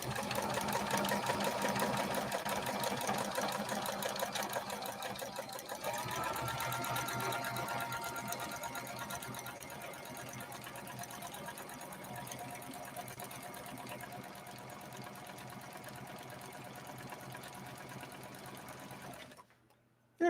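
A New Home sewing machine stitches a pattern with a steady mechanical whir and rapid needle clatter for about nineteen seconds, then stops abruptly.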